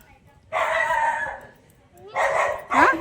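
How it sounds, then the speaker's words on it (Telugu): A dog barks in a domestic setting, a few sharp, fairly loud bursts separated by short pauses, with a voice speaking nearby in between. "కుక్క అరుతుందా కుక్క అరుతుంది"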